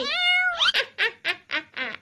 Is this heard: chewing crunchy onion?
no